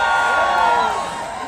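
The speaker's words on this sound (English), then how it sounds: "Now cheer for me if you are from the West." A crowd at a political protest rally at the Capitol gives a short burst of cheers and whoops that tapers off within a second or two.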